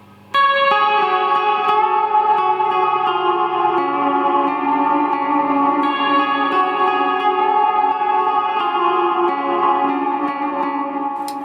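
Sustained guitar chords drenched in shimmering, octave-bright reverb from a dynamic shimmer pedal that swells and lingers, loud and continuous with no talking.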